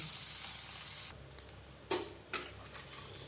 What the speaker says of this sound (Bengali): মাছগুলোর আমার একটা পাশ ভাজা হয়ে গেছে এবার আর একটা পাশ হচ্ছে ভেজে নেব